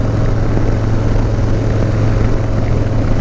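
A 2020 Harley-Davidson Low Rider S with short dual exhaust cruises at about 50 mph, its V-twin giving a loud, steady low rumble blended with heavy wind rush, without speech.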